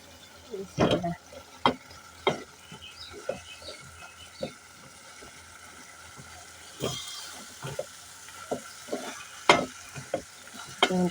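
Fish pieces go into a pan of cooked-down masala, sizzling while a spatula stirs and scrapes in sharp, irregular strokes, loud and close, with a quieter stretch of frying in the middle.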